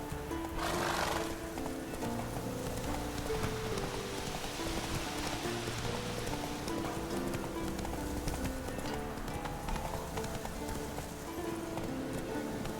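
Roach the horse galloping in The Witcher 3, a steady rhythmic thud of hooves under a dense wash of rain and game ambience, with a short whinny-like burst near the start.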